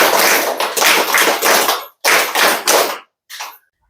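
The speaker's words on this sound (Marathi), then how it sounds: "त्याबद्दल आम्ही उमेद अभियानाच्या टाळ्या देत" Applause from the Umed Abhiyan group at a village gathering in Jaipur, Maharashtra, heard as loud close bursts of clapping in several rhythmic waves with short gaps, ending in a brief fainter flurry.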